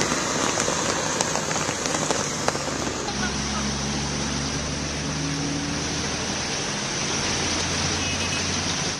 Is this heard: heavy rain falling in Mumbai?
yes